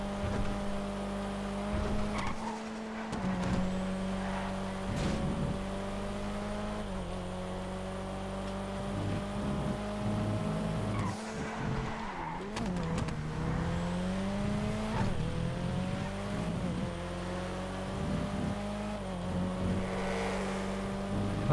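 A Stromberg car races in GTA FiveM with a steady, droning engine hum. Its pitch climbs and drops with repeated gear shifts and revs, and it plays fairly quietly throughout.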